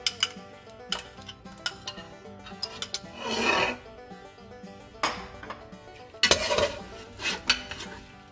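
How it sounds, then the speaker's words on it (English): Curd is stirred quickly into a pot of Kashmiri yakhni pulao, with metal spoon knocks and clinks against the pot and bursts of rough scraping through the rice, close and uneven, with no talk. "now I'm gonna add the curd and stir it in really quickly"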